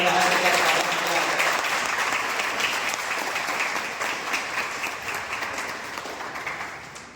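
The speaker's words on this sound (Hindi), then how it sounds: "एक बार जोरदार तालियों की गड़गड़ाहट के साथ स्वागत किया" Loud, dense applause from an audience welcoming guests onto the stage at an annual general meeting of an electricity employees' cooperative society, rolling continuously and fading gradually toward the end.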